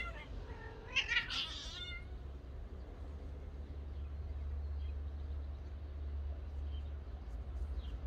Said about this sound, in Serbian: Dakle, četiri mačka su u blizini.